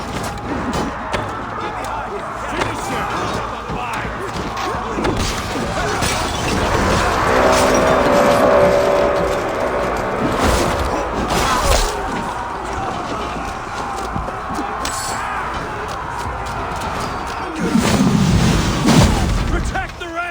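Battering ram striking a barricade during a battle in Assassin's Creed Valhalla, heavy booming thuds and crashes amid a loud chaotic battle din, with shouting voices throughout.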